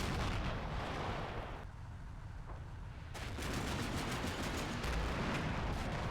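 Tank guns fire across a Cold War battlefield in Combat Mission Cold War, a dense, roaring barrage of booming blasts and rumbling explosions that briefly eases before swelling again, with no voices.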